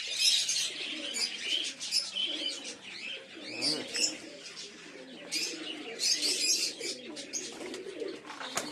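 Pigeons coo repeatedly at close range in the rain, with scattered chirps and some wing rustling mixed in, no talking.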